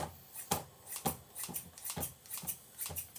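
Tupperware kitchen scissors slicing banana, a steady run of quick crisp snips, about ten evenly spaced cuts, close and fairly quiet with no talking.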